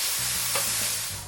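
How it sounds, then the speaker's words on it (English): About six strips of bacon fry in a pan with a steady, dense sizzle and crackle that stays loud and continuous throughout. "I've got about 6 strips of bacon. So I'm going to place that on a fry pan."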